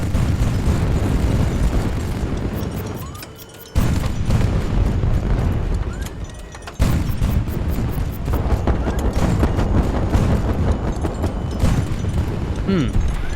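In the video game HighFleet, a landed warship fires on an enemy ship, producing a dense, loud roar of cannon fire and rumbling explosions that drops out briefly twice and then resumes.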